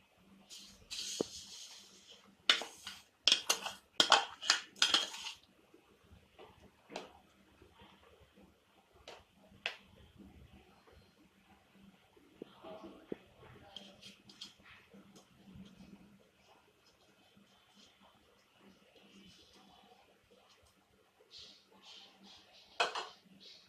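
Spoon stirring semiya kheer in a metal pot, with scattered clinks and scrapes clustered at the start, then softer intermittent stirring knocks and light rustles.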